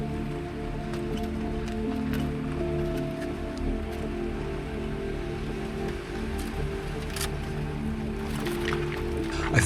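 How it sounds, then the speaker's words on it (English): Steady rain falls across the Idaho desert on a muddy two-track trail, a continuous patter of drops that holds at an even level throughout. "I'm not sure if you can see how much rain is coming down."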